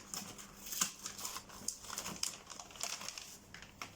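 Paper or plastic packaging around a stamp set is torn open by hand, giving soft crinkling and ripping bursts in an irregular rhythm, close but quiet, with no speech.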